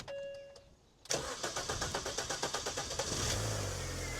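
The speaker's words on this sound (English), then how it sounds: "So let's give her a start up and see what happens." A 200,000-mile Mini Cooper cranks with a fast, rhythmic starter whir for about two seconds before the engine catches and settles into a loud, steady idle close by.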